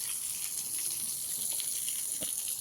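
Water washing away mud and soil on a paved block surface after rain, a faint steady gushing hiss with a few soft splashes, no voices.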